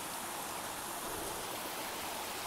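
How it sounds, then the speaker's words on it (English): A waterfall and stream along the Appalachian Trail give a steady, dense rush of water, continuous and fairly near with no breaks or voices. "there's a waterfall around this corner"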